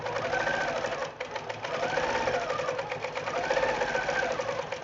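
A sewing machine set for free-motion quilting runs steadily at close range, a fast even stitching chatter that dips briefly before carrying on at a constant pace.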